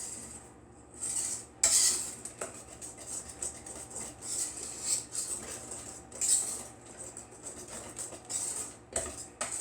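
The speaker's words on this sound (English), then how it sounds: "just give that a really good stir" A spoon clinks and scrapes against a bowl while stirring cheddar and jalapeno cornbread ingredients, a close, continuous run of small metallic taps and swishes with irregular rhythm.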